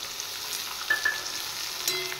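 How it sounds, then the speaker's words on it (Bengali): Ginger paste, cumin, dried chilli powder, turmeric and salt frying and being stirred in a pan, a steady soft sizzle with a few brief clinks of the spoon, heard alone and close. "এবার মশলাটা কষিয়ে নেব।"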